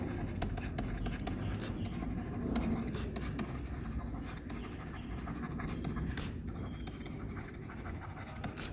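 A pen scratches across paper in quick irregular strokes with short pauses, close and quiet, as accounting figures are written down.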